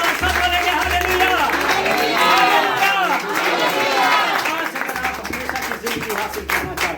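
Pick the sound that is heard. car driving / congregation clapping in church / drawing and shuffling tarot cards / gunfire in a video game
congregation clapping in church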